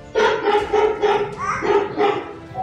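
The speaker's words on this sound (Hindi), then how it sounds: "उसके बाद कुत्ते की आवाज निकलती है" A smart speaker plays a recorded dog barking: several loud, close barks in a quick, uneven series, each sharp and short, heard alone with no talking over them.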